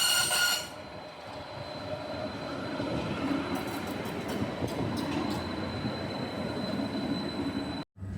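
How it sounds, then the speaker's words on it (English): A train curves into Mitcham Junction off the Sutton line while a tram crosses a newly built single-track bridge over it; a steady rolling rumble of wheels on rails fills the scene, with faint high wheel squeal midway and no talk. "a train bending in from the Sutton line and a tram coming over that line on a newly"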